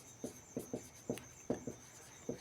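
Marker or chalk strokes on a board while numbers are written in a math class, a series of seven quiet, short scratchy strokes in an uneven rhythm, close by, with no talking.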